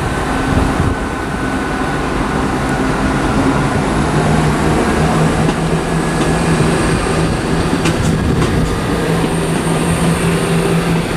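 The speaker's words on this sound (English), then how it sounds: "And the departing is 17416. That's the 1403 ScotRail service to Arbroath." A ScotRail service to Arbroath pulls out of Edinburgh Waverley station, its loud engine drone and rumbling wheels filling the platform with a steady roar, faint squeals and clicks rising over it.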